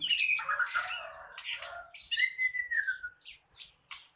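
A bird squawks repeatedly in harsh, close, sweeping calls, with a couple of shorter chirps trailing off at the end.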